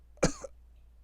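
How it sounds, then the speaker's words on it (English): A man's harsh, wet cough in an adventure audiobook, one heavy burst followed by a shorter hack, close and distinct against near silence. "Monty begins coughing up a storm as he struggles to lift himself up."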